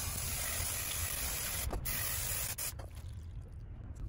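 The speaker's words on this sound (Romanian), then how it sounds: "Este spray de curățat frânul de se usucă foarte, foarte repede." Brake cleaner sprayed onto a motorcycle exhaust mesh during a muffler repacking job, heard as a loud, continuous close hiss that runs for several seconds with brief dips near the end.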